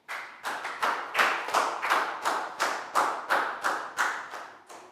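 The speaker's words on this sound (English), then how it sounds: "Big round of applause for Net," A classroom of children claps for a student in a rhythmic, unison pattern, about a dozen sharp, evenly spaced group claps that are close and fairly loud, with no talking.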